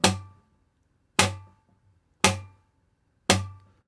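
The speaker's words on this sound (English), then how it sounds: "taking the thumb of your plucking hand and slapping it into your bass strings" Four evenly spaced thumb slaps on the bass strings of an acoustic guitar, each a sharp percussive snare-like hit with a short ringing decay, alone and close.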